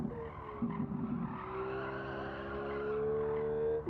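A Hyundai Elantra in Gran Turismo 7 plays a synthetic engine note, a steady droning tone with rising pitch, mixed with brief tyre squeal early on, fairly close and continuous.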